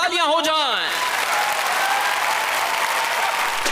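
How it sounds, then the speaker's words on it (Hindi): Loud, steady applause from a crowd fills the clip, following a brief rising musical flourish at the start. "एक बार जोरदार तालियां हो जाएं"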